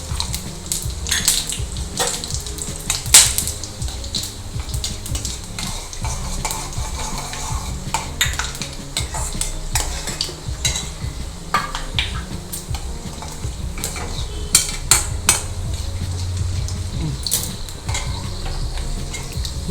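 Cashews fry in a pan with cumin, a steady sizzle broken by frequent scraping stirs and spoon clinks against the metal, close and continuous throughout, with no talking.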